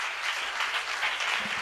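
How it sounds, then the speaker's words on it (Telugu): Church congregation applauding, a dense burst of many hands clapping steadily through the short moment, fairly close and even in loudness. "ఒక్కసారి గట్టిగా చప్పట్లు కొడతారా?"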